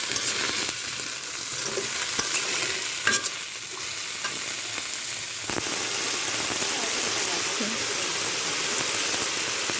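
Ridge gourd frying in a pan with nigella seeds, a dense steady rain-like sizzle with intermittent spatula scrapes and knocks, close and loud throughout, no talk.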